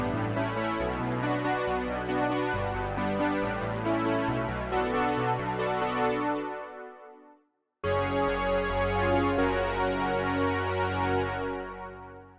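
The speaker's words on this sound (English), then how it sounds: "this sound was created on an Oberheim OBX" Lush Oberheim OB-X polysynth patch, playing rich sustained chords that cut off briefly near the middle and then return, loud and alone.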